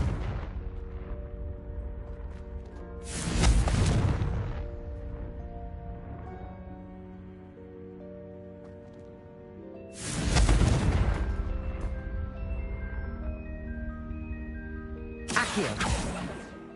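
Blasting-spell explosions from the game Hogwarts Legacy boom in three loud, deep bursts several seconds apart, each trailing into a sustained musical score.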